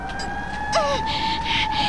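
A fire truck siren wails steadily at a distance, its rising and falling tone carrying over faint background hum and rustle.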